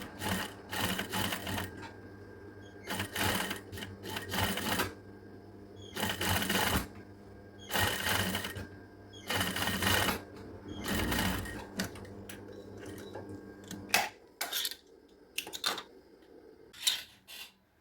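A sewing machine stitches a women's shirt in bursts of rapid, close mechanical clatter separated by short pauses, then gives quicker, choppier stops and starts toward the end.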